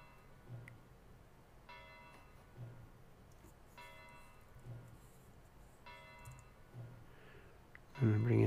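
A tape loop of ringing bells repeats a bell strike roughly every two seconds, each ringing tone fading out before the next, ending in a sudden loud thump.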